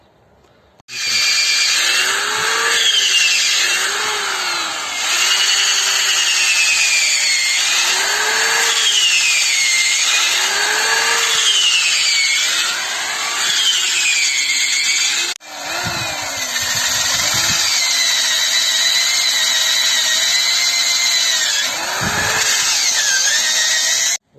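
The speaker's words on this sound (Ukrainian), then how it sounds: "Спочатку робимо отвори на 10, потім розширюємо їх на 20." A cordless drill bores holes into an old tree stump, first with a 10 mm bit and then widened to 20 mm with a spade bit. It whines loudly in repeated rising and falling bursts, close by with no talk, and briefly pauses partway through.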